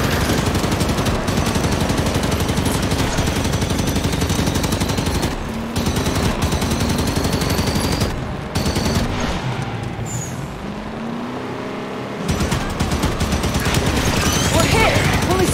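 Continuous scatter-shot gunfire from a Knight enemy in the video game Halo 5: Guardians, dense loud bursts of rapid shots with booms and battle noise, with brief lulls, and voices talking over the fighting.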